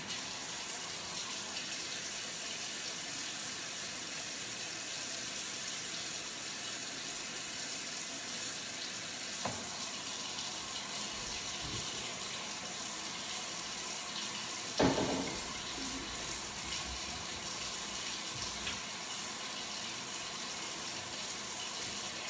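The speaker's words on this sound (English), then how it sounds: "So I'm gonna rinse my hands off" Hands are rinsed under a running kitchen tap, a steady close hiss of flowing water that continues throughout with a few faint clunks and splashes over it.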